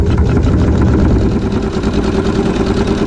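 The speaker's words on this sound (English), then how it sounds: "now I'm going to sew a tack down stitch" Sewing machine running a tack-down stitch on a quilted log cabin triangle block, a steady, loud, close motor hum throughout without a break.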